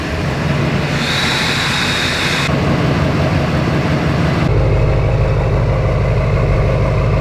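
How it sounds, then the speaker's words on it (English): A Duramax diesel engine runs steadily after a new lift pump and sump install, with a loud, constant rumble, a change in tone partway through, and a continuous drone with no talking. "We should be good to go to fire this thing up and see if it'll run."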